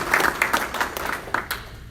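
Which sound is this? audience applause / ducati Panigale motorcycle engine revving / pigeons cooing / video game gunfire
audience applause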